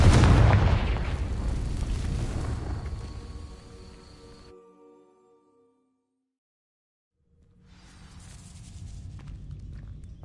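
Confringo fire spell igniting dry vines in the Hogwarts Legacy video game: a loud fiery burst that crackles and roars, then fades to silence over several seconds before a rumbling sound returns.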